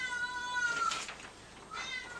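A cat meows twice, a clear close call followed by a shorter second one, with no talk over it.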